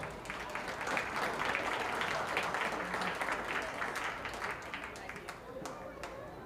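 Crowd at a junior fair sheep show applauding a sheep class, a broad steady wash of clapping from many hands that holds throughout and eases slightly toward the end, with faint voices underneath.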